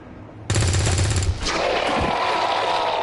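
A gunshot fired in the XCOM 2 video game at the start of an ambush: a sudden loud burst of rapid crackling fire, followed by a sharp impact and a lingering rumbling tail.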